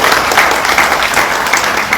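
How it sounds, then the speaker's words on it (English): An audience at a live panel event on the Parkway applauds, a loud, continuous burst of close clapping that holds steady throughout. "Yes, round of applause."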